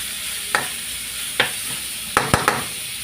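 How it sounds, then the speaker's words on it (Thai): Pork belly is stir-fried in a pan, giving a few sharp, separate scraping clacks of a spatula against metal over a faint background sizzle, with one close pair of strokes near the end. "พัดไปเรื่อยๆจนหมูสามชั้นสุกดี"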